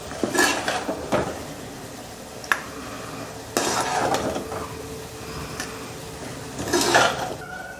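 A bottle gourd and peanut stir-fry is scraped from a pan into a bowl, with several metallic clinks and scraping knocks of a spoon against cookware at close range.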